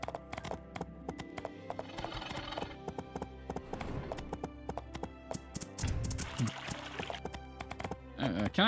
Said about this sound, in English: Let's go ride the horse around for a little bit.